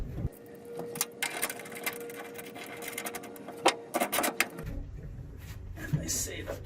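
Wrench work tightening a clamp for a Gator FX tonneau cover on a 2019 RAM 2500, heard as scattered ratchety clicks, scrapes and metallic knocks close by, with a steady hum underneath and a voice talking partway through.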